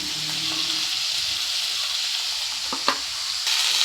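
Tomatoes with turmeric powder fry in a pan for Udupi-style sambar, a loud, even hiss of sizzling oil filling the whole stretch, with a couple of brief utensil clicks near the end and no voices.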